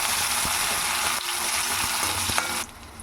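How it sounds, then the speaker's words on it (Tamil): Onion, green chilli, garlic and curry leaves sautéing in a pan for a cauliflower gravy, a loud continuous sizzle broken by a few spoon scrapes, easing off sharply just before the end. "இப்போ வந்து வெங்காயம் பச்சை மிளகா பூண்டு கருவேப்பிலை சேர்த்துக்கலாம் இதை வதக்கி விடுங்க"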